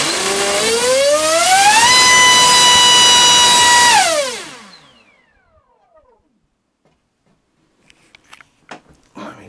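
An FMS PAEP 3546 1900KV electric ducted fan motor on a thrust test stand spools up to a loud, steady high-pitched whine, holds it, then winds down and fades to near silence, with faint clicks and handling noises afterward.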